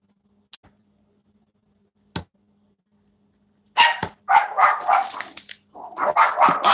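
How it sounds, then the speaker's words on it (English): A pet dog barking in a bout of rapid, loud, close barks following a couple of faint clicks in a quiet room. "That's my dog barking."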